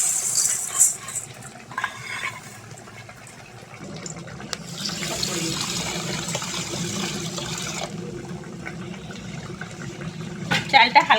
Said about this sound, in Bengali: এবার আমি চালটা ধুয়ে নেব।